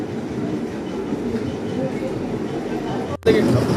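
A small tram runs at the Elephanta Caves in India, giving a close, steady low rumble of rolling wheels that drops out briefly near the end before resuming, with someone talking over it.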